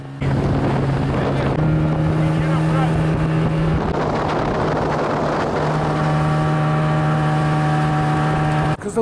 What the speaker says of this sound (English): we are sitting somewhat safely in the boat and are on our way